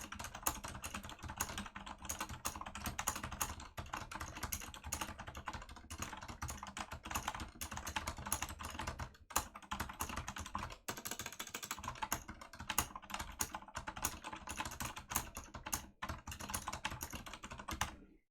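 Someone types on a computer keyboard up close, with rapid, continuous keystrokes and short pauses in bursts for about eighteen seconds and no talk.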